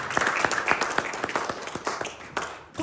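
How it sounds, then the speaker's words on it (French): A church congregation clapping for the Lord, a fast run of sharp, close handclaps in a rough rhythm, with brief voices mixed in near the end. "Let's clap for the Lord."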